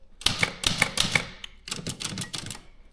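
An old, rusty Brother typewriter being typed on, its keys striking in quick clattering bursts with a brief pause midway, close and clear with no voices.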